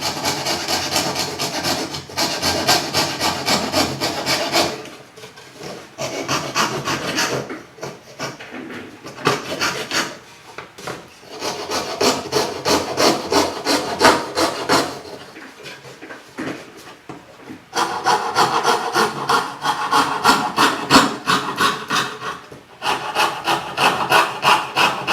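Hand sawing on a custom wooden Rosa-style mandolin: steady back-and-forth rasping strokes of a saw through wood, in several close, loud bursts separated by short pauses.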